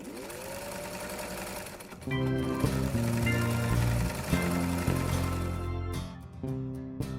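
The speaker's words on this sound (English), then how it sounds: "I'm going to share with you how to do quilting on your own sewing machine" A sewing machine runs steadily with a loud mechanical whir and rapid needle clatter, slowing and stopping briefly near the end before starting again.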